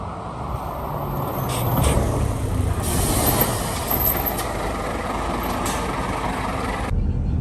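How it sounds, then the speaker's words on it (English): City bus number 2 pulls in beside a waiting passenger: a rumbling diesel engine with sharp hissing air-brake releases, including a loud burst near the start and a final hiss as it settles, close by. "Just waiting for the next bus to come."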